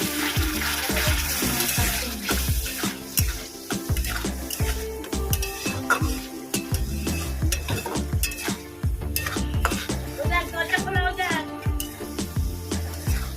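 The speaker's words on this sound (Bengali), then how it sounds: "আমি এখানে দেব টক দই ভালো করে মিশিয়ে নেব" Sour yogurt being stirred into a Gandharaj prawn curry in a pan: a steady run of scraping, clinking spoon strokes against the pot, close and fairly loud, with an even stirring rhythm over a soft background of sustained tones.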